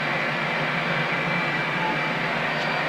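A light aircraft engine drones steadily while taxiing to the runway, a loud, even hum with no breaks.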